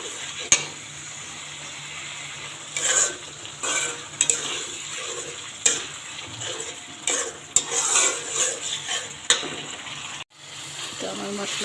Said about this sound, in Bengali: তো আমার মশলাটা ভাজা হয়ে গিয়েছে